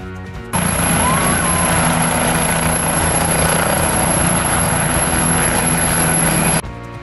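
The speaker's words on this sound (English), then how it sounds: "Helicopter." A helicopter's steady, continuous rotor and engine roar holds at an even loudness for about six seconds, then cuts off abruptly, with no voices present.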